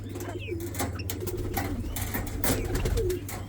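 Japanese quails in a cage giving soft, repeated cooing and chirping calls close by, over a low steady background hum, brief and without talk.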